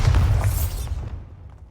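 A Bombarda spell bursts in Hogwarts Legacy, a loud booming explosion with a heavy low-end thump at the start that rolls off and fades over the following moments.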